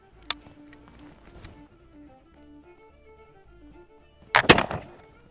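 A Charleville 1766/68 flintlock musket goes off: a faint sharp click early, then a single loud, booming discharge with a crackling tail near the end.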